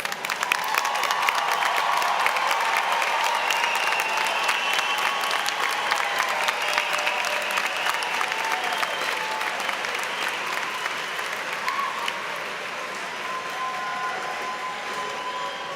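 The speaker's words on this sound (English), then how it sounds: "Let's give them one more round of applause." A commencement crowd gives sustained, loud applause to the graduating class of 2024, a thick continuous roar of many hands with some cheering mixed in. It eases slightly toward the end.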